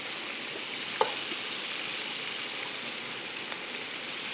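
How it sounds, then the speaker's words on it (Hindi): Tomatoes and chopped garlic frying in about four tablespoons of oil in a pan, giving a steady, even sizzle throughout with a couple of faint clicks. "ये हमने टमाटर को और इसके साथ लहसुन को, दोनों चीज़ों को हमने डाल दिया है पकने के लिए"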